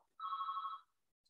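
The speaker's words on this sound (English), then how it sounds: "that's my fax machine ringing there in the background" A fax machine rings in the background with one short electronic trill lasting under a second, faint and alone in an otherwise quiet room.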